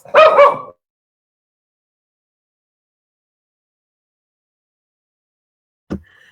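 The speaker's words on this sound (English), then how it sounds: "Her dog King wants to talk to you, right" A dog gives a single short, close bark or yip, followed by a long silence and a faint brief noise at the end.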